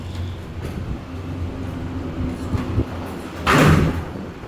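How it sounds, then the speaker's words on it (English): A 1979 OTIS Asian Lexan lift in a Hong Kong industrial centre, its doors sliding shut and ending in a loud broadband slam near the end, over a steady low machinery hum. "That was a loud slam."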